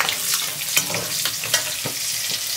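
Dried red chillies and small green chillies sizzle and crackle in hot oil for a Kerala ulli theeyal curry, with steady frying hiss and a few sharper pops and stirring scrapes close by.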